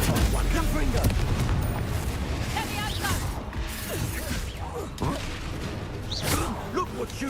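Confringo and Bombarda spell blasts in Hogwarts Legacy, repeated crashing booms and whooshes scattered through the clip amid busy combat noise, with voices calling out over the fighting.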